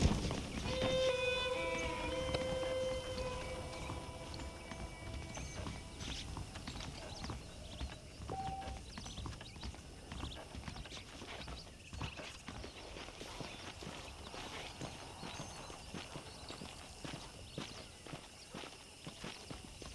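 Horse hooves clip-clopping steadily in Red Dead Redemption as a rider moves at a walking pace, a rhythmic, fairly faint run of hoofbeats throughout with a few tonal game sounds near the start.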